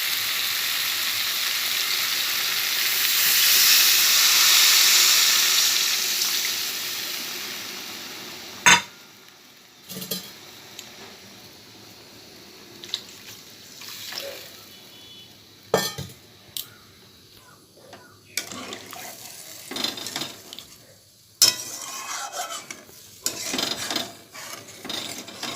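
Water goes into a frying potol and prawn curry with a swelling hiss that dies away, followed by scattered scrapes and knocks of a spoon stirring in the pan.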